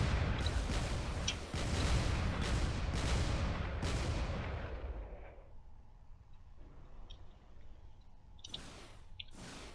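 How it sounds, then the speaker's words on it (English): A Baron fires its cannons in the Drone Wars space battle game, a run of heavy booming shots in quick succession that gives way to quieter, scattered distant blasts and sharp impacts; nobody speaks. "He's dodging as best it can, firing as much as it can with those cannons."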